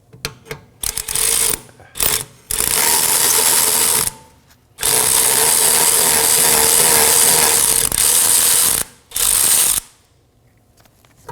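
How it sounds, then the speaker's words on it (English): Ratchet loosening the two 19mm rear brake caliper bracket bolts on a 2015-2023 Nissan Maxima, bursts of rapid close clicking lasting one to four seconds with short gaps, ending in quiet. "Now we're going to break loose our caliper bracket bolts. These are two 19mm. And now fully remove them."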